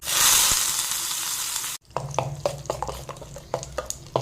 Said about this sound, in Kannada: ಇವಾಗ ನೋಡಿ ಚಟ್ನಿಗೆ ಒಗ್ಗರಣೆ ಹಾಕಿ ಆಯಿತು ಹಾಗೆಯೇ ಇಲ್ಲಿ ಟೀ ಕೂಡ ಕುದೀತಾ ಇದೆ